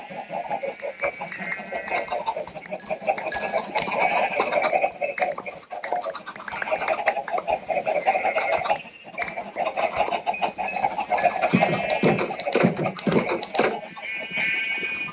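Chickens cluck repeatedly in Minecraft, several birds making overlapping close clucks and squawks in an irregular rhythm across the whole stretch.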